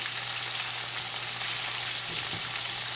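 Chicken pieces for orange chicken brown in a frying pan with a loud, constant sizzle and crackle of hot oil, close and steady throughout, with no voices.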